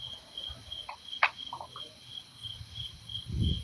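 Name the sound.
crickets chirping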